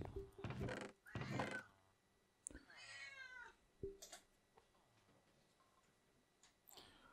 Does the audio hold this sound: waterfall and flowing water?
no